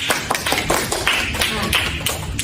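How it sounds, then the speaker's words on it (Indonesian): Short burst of classroom applause during a microteaching lesson, quick uneven claps from a small group of students, close and fairly loud with faint voices mixed in. "Tepuk tangan dulu untuk Mbak Rani."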